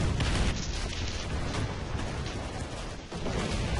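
Tank combat in the War Thunder video game, a dense, rumbling barrage of booming gunfire and explosions that rolls on continuously with heavy low-end weight and no pauses.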